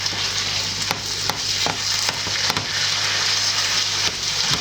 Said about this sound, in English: Browning the meat off nicely.